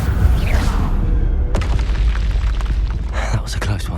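A Confringo spell from Hogwarts Legacy detonates with a deep, booming blast amid ongoing combat rumble, followed by crackling bursts and smaller pops over a steady low roar.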